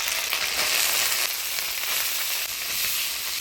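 Shredded cabbage sizzling steadily in hot oil tempered with dry red chillies, whole cumin, bay leaves and ginger-cumin paste in a Bengali village kitchen, a bright continuous frying hiss with faint stirring.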